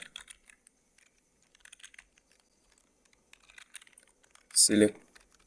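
Soft, close keyboard taps while code is typed on a computer, light scattered keystrokes with a brief louder vocal sound near the end.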